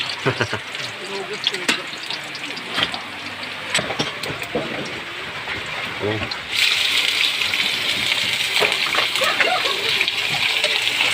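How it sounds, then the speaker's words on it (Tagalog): Running water splashes and gushes as dishes are washed nearby, a steady spatter that grows louder and denser partway through, with background voices and household noise. "dahil si Mrs. O ayan nanghuhugas nang dapat hugasan."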